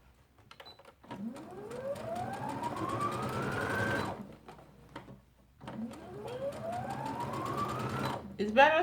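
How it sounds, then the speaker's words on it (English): A sewing machine stitches a full circle sleeve onto a dress body in two long runs, its motor whine rising in pitch as it speeds up with a rapid needle clatter, close and clear, briefly stopping in between, while someone talks over it. "It's better to start sewing it from the plain side as opposed to doing it from the gathered side"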